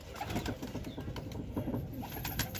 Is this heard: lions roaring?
no